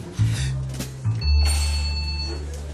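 A telephone rings with a loud electronic tone, pausing briefly before ringing again, close by.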